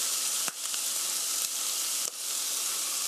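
Vegetables for tortilla stir-frying in a pan, a steady close sizzle filling the whole stretch with a few brief clinks or stirring scrapes breaking through.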